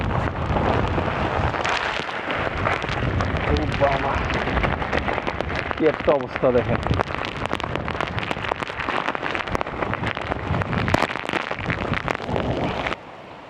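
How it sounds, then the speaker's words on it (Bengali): Strong wind roars steadily across a rooftop during Cyclone Remal, a loud continuous gusting rush with rain-like patter throughout, while a person speaks over it. "ছাদে বাতাসের তেজ আরো বেশি"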